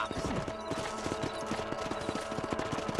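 Horse hooves clip-clop steadily in the Red Dead Redemption video game as the horse moves along at an even pace, with the rhythmic clopping close and clear over a low background.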